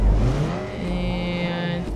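Car engines revving at the start of a race in the Forza video game, a loud burst of revving settling into a steady whining engine tone over two seconds.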